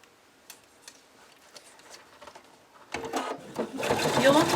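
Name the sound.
sewing machine stitching around a cockatiel plushie wing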